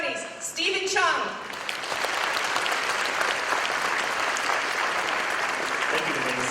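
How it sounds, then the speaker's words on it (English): Sustained audience applause from a business summit crowd in Arcadia, California, greeting the master of ceremonies; steady dense clapping with some cheering, starting after a brief mixed moment and holding loud throughout. "Please bring down the house with lots of applause."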